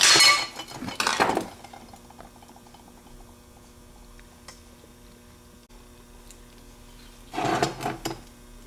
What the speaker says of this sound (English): Take a screwdriver, pry it up out of the way.